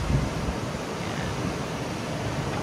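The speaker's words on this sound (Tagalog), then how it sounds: "Dahil lang sa hangin habagat ngayon, kaya parang ang lakas-lakas ng alon." Steady roar of wind and rough sea waves driven by the southwest monsoon wind at Nasugbu, Batangas, with continuous broadband rushing noise and wind buffeting the microphone.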